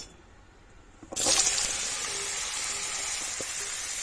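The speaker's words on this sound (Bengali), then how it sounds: "এবার এর মধ্যে আমি লাউগুলোকে দিয়ে দেব" Chopped bottle gourd hits a hot kadai of oil with fried lentil dumplings and cumin seeds, and a sudden loud sizzle erupts after a quiet second. It settles into a steady, close frying hiss.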